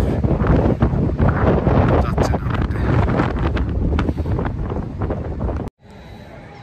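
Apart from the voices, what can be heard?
strong wind at Coney Island beach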